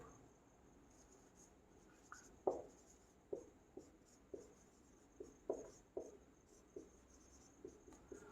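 Chalk writing on a classroom board: quiet irregular taps and short strokes repeating at a steady pace, with no one talking.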